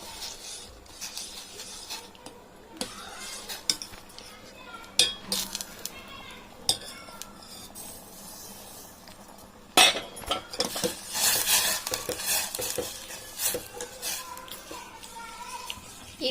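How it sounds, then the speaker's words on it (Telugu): Semolina being stirred in a pan as it is added, with scattered spoon scrapes and metallic clinks, growing into a denser rasping, rubbing stir in the second half; no one talks. "రవ్వని యాడ్ చేసేటప్పుడు కలుపుతూ యాడ్ చేసుకోవాలి."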